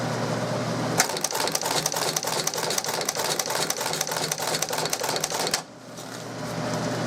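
A Hohner 43/6 stitching head driving a run of staples, a loud, rapid mechanical clatter of evenly repeating strokes for several seconds that stops abruptly, leaving a quieter room hum.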